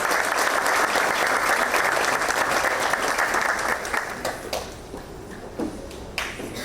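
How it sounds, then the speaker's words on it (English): Audience at a school district board meeting applauds campuses: a dense, even round of clapping that holds steady, then thins out into scattered individual claps toward the end. "Let's give a big round of applause to our 10 B-rated campuses."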